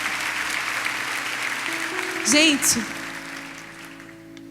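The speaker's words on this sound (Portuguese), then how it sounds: "Você pode aplaudir o Senhor por isso?" A church congregation applauding, a continuous crowd clapping that fades toward the end, with a voice speaking briefly over it and a sustained tonal note underneath.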